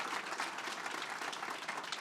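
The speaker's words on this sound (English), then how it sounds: "please give them a round of applause for everything they do for us" Audience applause for the WCA staff at a Westchester toasting event, a dense, steady wash of many hands clapping at once, loud and continuous with no voices standing out.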